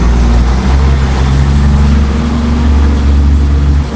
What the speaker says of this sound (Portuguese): é o caminhão do lixo que está passando aqui